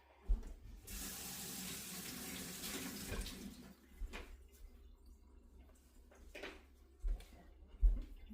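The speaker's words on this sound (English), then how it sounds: "You know how many times a day I have to wash my hands?" Water pours steadily from a kitchen tap as hands are washed, a loud broadband rush for about three seconds, then the flow eases into quieter trickles and splashes with a few clunks and drips near the end.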